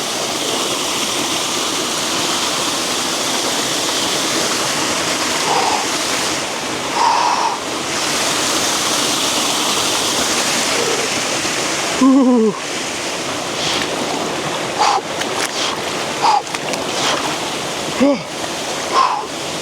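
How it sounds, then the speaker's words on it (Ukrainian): Powerful Bohdan mountain waterfall near Bukovel, a steady broadband roar of falling water close by, with brief louder bursts and a few short voice sounds over it. "скупнутися в цьому неймовірно мощному, потужному водоспаді"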